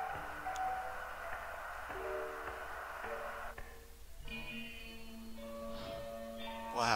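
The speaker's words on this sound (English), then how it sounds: "I hear the music box." A tinkling music box melody plays in the horror video game A Shadow Over Freddy's, its thin repeated tones sitting over a steady bed of radio static and droning ambience, with a brief swell near the end.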